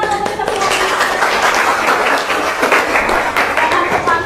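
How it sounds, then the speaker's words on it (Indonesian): A class claps hands in dense, fast applause that runs steadily throughout, loud and close, with voices faintly mixed in. "Oke, tepuk tangan untuk kita semua."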